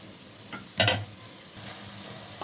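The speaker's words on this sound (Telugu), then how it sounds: "మొత్తం ఒకసారి కలుపుకుందాం" Egg and cauliflower curry being stirred in a pan, giving one brief scraping stir over a quiet, steady frying hiss, with no voices.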